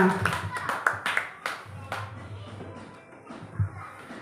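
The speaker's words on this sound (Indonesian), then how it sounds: "Kita beri aplaus dulu Bapak Ibu untuk kita semuanya" Teachers applauding in an online webinar: scattered, uneven hand claps from several people, close and fairly loud, thinning out and fading over a few seconds.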